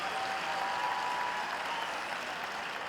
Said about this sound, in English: A big round of applause for the producers and the talented performers